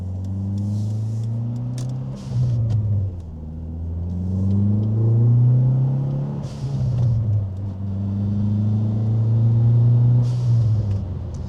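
A Dodge Neon SRT-4 with a turbocharged engine pulls hard while driving, its deep engine note rising in pitch through several gears with brief drops at each shift, loud and close from inside the car.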